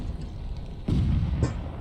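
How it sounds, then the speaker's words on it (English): Cannon or artillery fire in the video game Rise of Liberty: a single deep boom lands partway through, with a second burst following closely, over a steady rumbling battle bed. "these are artillery pieces or cannons, and they're actually in a good position"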